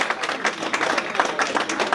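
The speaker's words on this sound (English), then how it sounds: "give yourself a round of applause" A crowd at a Malcolm X presentation event claps together in a brief, dense burst of applause, hands slapping rapidly and evenly at close range with no voices on top.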